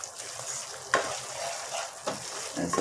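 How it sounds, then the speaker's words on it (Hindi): Atta halwa being stirred in a pan so it won't stick, a soft steady sizzle of frying with scraping strokes and a few sharper knocks of the spoon against the pan. "इसको चलाते रहना है ताकि ये नीचे लगे ना, जल जाएगा"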